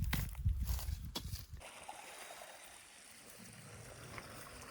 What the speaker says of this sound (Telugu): ఇదిగో కిందనైతే కొంచెం నీళ్ళు అయితే వస్తున్నాయి ఇక్కడ పొలం నీళ్ళు